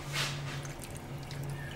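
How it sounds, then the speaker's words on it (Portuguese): Half a glass of water poured into a salmon marinade for a caramelized salmon recipe: a short, soft splash and trickle up close, fading into a quiet dripping wash over a low background hum. "Vamos por junto meio copo de água"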